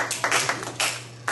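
A few people clapping at a sales training session, sparse and uneven claps in small bursts, fairly close, over a low steady hum.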